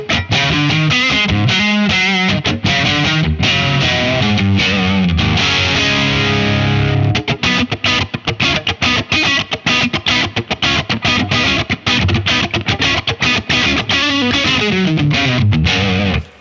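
An electric guitar on its neck pickup, played through a small, loud amp rig, runs a bluesy, distorted line with chorus-like shimmer: held notes give way to quick picked runs, loud and close, with no voices.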